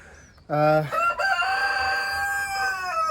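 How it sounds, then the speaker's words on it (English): A rooster crows loudly nearby, a long drawn-out call, with hens clucking softly in the background. "Chickens are going to bed for night and I'm just collecting the eggs"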